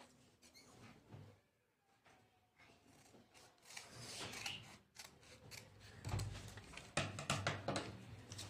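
Scissors snipping through paper for origami, close and quiet, with a series of scraping cuts that grow denser and louder toward the end.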